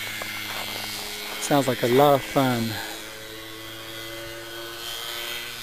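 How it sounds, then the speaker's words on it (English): Motorcycle engine passing outdoors in winter, a rising and falling buzzy drone with a few revving surges in the middle, then fading away, while a voice speaks briefly. "Guy with this motorcycle."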